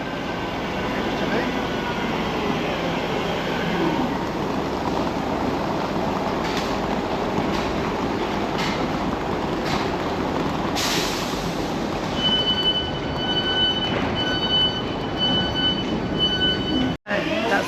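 A train pulling in at Manchester Airport station, a steady loud rumble of rolling wheels and motors with brief hisses and a late tonal hum as it slows, people talking over it.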